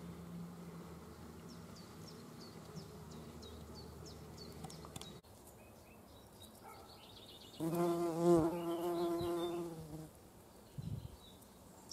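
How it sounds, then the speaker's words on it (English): Common carder bee buzzing among hardy geraniums outdoors in spring: a soft background drone, then a louder, closer buzzing burst of a few seconds as the insect flies near, fading again, no speech. "This is a common carder on the geraniums, just starting to come out."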